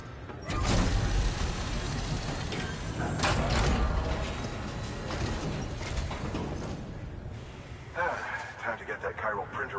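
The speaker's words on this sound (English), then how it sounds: "Time to get that chiral printer in working order." Chiral printer mechanism in the video game Death Stranding whirring and clicking as it works, a steady mechanical grind with ratcheting bursts and sliding sounds, fairly loud over ambient game audio.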